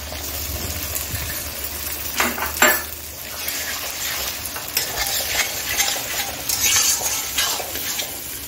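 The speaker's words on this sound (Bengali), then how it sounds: "এখন আমি যে তিনটে ডিম নিয়েছিলাম সেটা ফেটিয়ে নিয়েছি। এখন ডিমটাও দিয়ে দিলাম।" Three beaten eggs poured over fried onion sizzle steadily in a hot pan while a spatula stirs and scrapes, with occasional sharper clinks against the metal.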